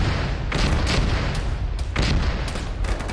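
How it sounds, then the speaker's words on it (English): Rocket strike explosions in the military video game Arma, a dense run of loud booms and crackling blasts that swell repeatedly over a continuous rumbling gunfire bed. "was that a rocket strike?"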